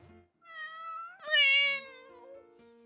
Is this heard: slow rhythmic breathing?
no